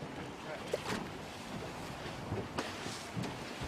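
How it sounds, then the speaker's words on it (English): Strong wind, rising toward force 11 at 53 knots, buffets a small fishing boat at sea on the River Mersey, giving a steady broadband roar with gusty microphone rumble and occasional knocks and splashes. "the wind got up to 53 knots, which is force 11"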